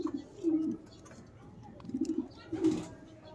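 Pigeons cooing on a pigeon farm, several soft throaty coos in short bursts repeating roughly every second, fairly close but quiet, with faint background rustle.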